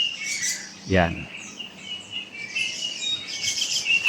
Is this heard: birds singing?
yes